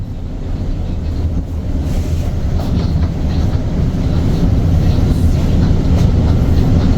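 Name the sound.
train running on rails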